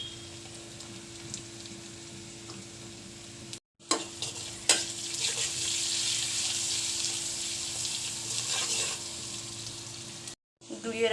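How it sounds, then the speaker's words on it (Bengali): Onions frying with salt and turmeric produce a soft hiss that swells into a brighter, fuller sizzle with stirring clatter, cut off abruptly by two short silent breaks. "পেঁয়াজটা একটু ভেজে নেব। দিয়ে দেব লবণ, দিয়ে দেব হলুদের গুঁড়া,"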